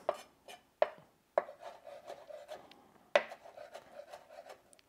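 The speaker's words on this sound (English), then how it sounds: "Finely chop the cilantro leaf and stem." A knife finely chopping cilantro leaves and stems on a cutting board gives a series of sharp, close taps, a few well apart and then quicker strokes, each followed by a brief rubbing scrape, quiet with no talk.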